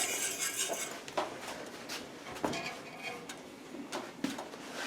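Spoon clinking and scraping in a pot while stirring gravy to break up lumps for Salisbury steak, irregular metallic taps and scrapes over a soft hiss, no voices.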